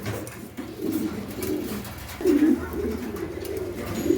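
Pigeons coo repeatedly in low, throaty bursts, fairly close, with a steady murmur of more cooing and faint background noise throughout.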